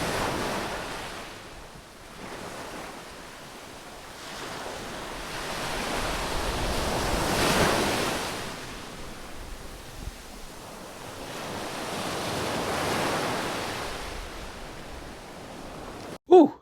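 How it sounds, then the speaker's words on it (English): Ocean waves break on a beach in slow, recurring surges of surf with wind, rising and falling several times, ending in a brief sharp click. "So you guys take a quick break, watch the waves, relax"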